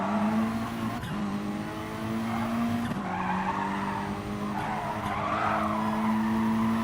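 A Group 3 race car engine drones at high revs, rising and dropping with gear changes, while tires squeal and skid in repeated bursts.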